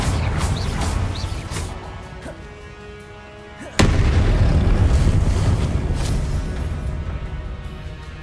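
A Confringo blasting curse is cast in a Hogwarts wizarding video game, giving a sudden sharp explosive crack amid continuous dense rumbling combat noise, loud and close.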